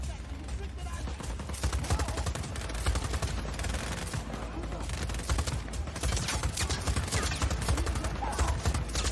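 Rapid bursts of gunfire from the video game Just Cause 2, a dense, continuous rattle of shots filling the whole stretch at steady loudness, with game noise mixed underneath.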